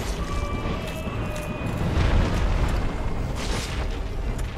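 Magic explosion in the video game Dark Souls Remastered during a demon boss fight, a dense rumbling roar of blast and debris that swells in the middle and stays loud throughout, with no clear talk over it.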